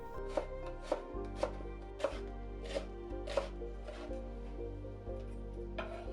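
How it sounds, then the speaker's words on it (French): A knife chops a carrot into julienne strips on a cutting board, a steady series of about ten crisp, evenly spaced cuts, close and clear with no talking. "Coupez aussi la carotte en julienne."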